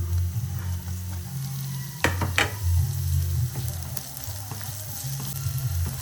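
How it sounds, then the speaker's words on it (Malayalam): Browned onion sautés in a pan with ginger, green chili and garlic for minced beef with potatoes, giving a steady close sizzle with low scraping stirs and a few sharp clicks of a utensil against the pan. "നമുക്കിതിലേക്ക് ഇഞ്ചിയും പച്ചമുളകും വെളുത്തുള്ളിയും ചേർത്ത് കൊടുക്കാം."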